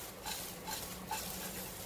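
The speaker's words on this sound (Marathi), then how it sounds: "अलगद हाताने असं खालीवर करायचं किंवा कढईच अशी जरा थोडीशी टॉस करून घ्यायची" Stuffed okra masala being stirred and tossed in a kadhai, soft spatula scrapes and light clinks over a gentle steady sizzle, quiet and close with no talk.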